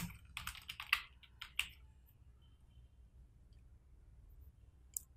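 Quick clicky keystrokes on a computer keyboard type out a search, a rapid burst of taps in the first two seconds, then near silence and one last click, close and quiet with no talk.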